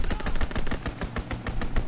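An aircraft strafing run in a WWII video game, a loud close burst of rapid machine-gun fire that rattles steadily for the whole stretch with no pauses and no talk.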